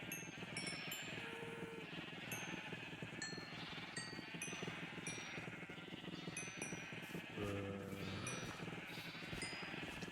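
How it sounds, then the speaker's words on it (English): Sheep bleating in the block-building game Minecraft, several short repeated bleats over a busy, continuous backdrop of game sounds. "Okay, let's start with the sheep."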